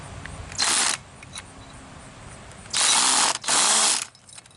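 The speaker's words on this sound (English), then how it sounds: "to drill 1/4 inch hole using hammer drill" A hammer drill with a masonry bit drills a 1/4-inch hole into a brick wall, bursting on loudly in short runs: one brief burst, then two longer grinding bursts separated by pauses.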